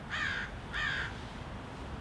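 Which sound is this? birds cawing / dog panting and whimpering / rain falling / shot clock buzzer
birds cawing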